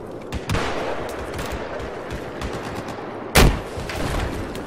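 Gunfire in Battlefield 4 multiplayer Conquest on the Hammerhead map: scattered distant shots and bursts under steady battle noise, with one loud close blast near the end.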